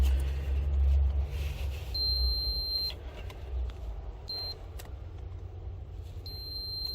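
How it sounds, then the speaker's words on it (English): Fuse testing device on a 2014 Dodge Challenger giving sharp high-pitched beeps: a long one, a short one and another long one, over a low rumbling background. "when you hear that beep"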